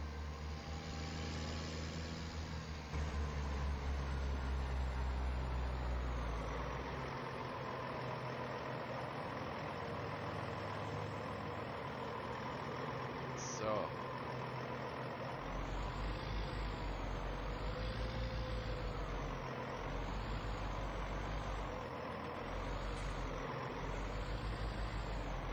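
Tractor engine in Farming Simulator 19 droning steadily as it drives, a constant low hum with slight pitch swells near the end, heard alone at moderate volume.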